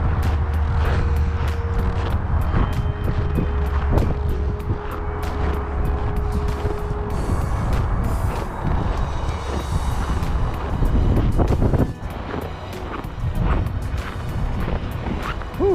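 Strong, cold winter wind rumbles and buffets the microphone in Calgary at -26°C, a loud, continuous low roar with gusting surges and no talking.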